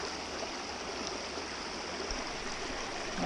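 A shallow creek on the Bright Angel Trail flows at a trail crossing, a steady, close, even rush of water with no voices.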